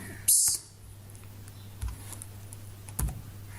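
Computer keyboard keys clicking as code is entered, a quick burst of taps followed by a few isolated, fairly faint keystrokes spaced apart in a quiet room.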